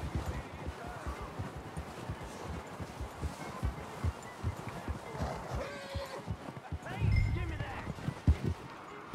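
Horse hooves clip-clop in a steady rhythm through Red Dead Redemption 2 game play, a horse briefly whinnying, with people talking over the hoofbeats throughout.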